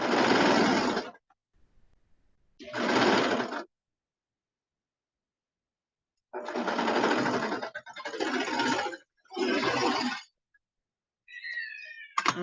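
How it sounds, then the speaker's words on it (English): A sewing machine stitches through a bomber jacket body and lining in several bursts of steady whirring, each a second or two long with pauses between, close and clear with no talk. "if you are using a regular sewing machine,"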